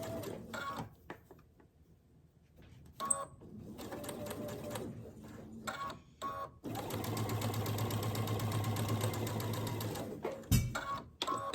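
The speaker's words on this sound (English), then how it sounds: "I'm taking it over to the sewing machine. I'm stitching diagonally across there." A sewing machine runs in short bursts and then a long steady stretch, stitching diagonally across fabric for a child's gift, with a rapid, even mechanical whir, close and clear.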